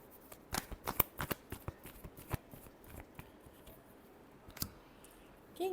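Tarot cards shuffled close up: a quick run of sharp, crisp card clicks and snaps in the first couple of seconds, a few scattered ones afterward and one more near the end, over a soft background hiss with no speech.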